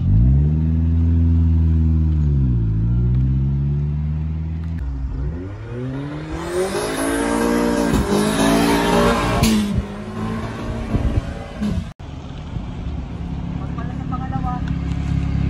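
A Toyota 4E-FTE car doing drag racing launches with wheel spin, the engine revving and rising in pitch as it pulls away, loud and close, with people talking throughout.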